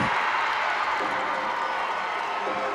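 Cheering and applause from a reduced, socially distanced crowd and teammates inside an arena after a gymnast sticks a round-off one-and-a-half dismount at a college women's gymnastics regional final; a steady, loud wash of noise throughout.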